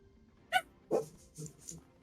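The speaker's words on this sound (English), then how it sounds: "I do apologize about the dog barking." A pet dog barks somewhere in the house, four short sharp barks spaced about half a second apart, the first high and yelpy, the rest lower, all fairly distant and soft over a quiet room.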